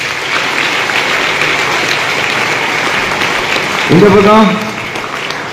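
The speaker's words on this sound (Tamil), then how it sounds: "சந்தியாவுக்கு ஒரு பாராட்டு." Steady applause from a student audience at an Independence Day school event for a girl named Sandhya, continuous clapping throughout with a voice speaking over it near the end.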